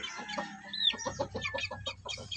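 Week-old young stag chicks cluck and peep close by in quick, uneven bursts, with a rising chirp near the start and chatter running continuously.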